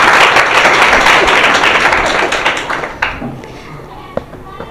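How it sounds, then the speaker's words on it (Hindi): Applause from an audience at a school spot-prize programme, a dense, loud burst of clapping that gradually thins out and trails off into a few scattered claps and taps. "इनके लिए तालियां तो बजाइए।"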